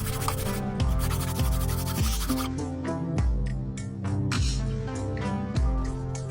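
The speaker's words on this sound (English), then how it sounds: "Mine were not very smooth, so depending on how yours was cut, you may need to sand yours as well." Strips of plexiglass acrylic being sanded by hand, with a fairly quiet, rhythmic back-and-forth rubbing in regular strokes close to the microphone.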